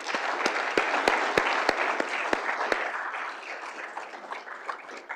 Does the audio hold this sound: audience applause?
yes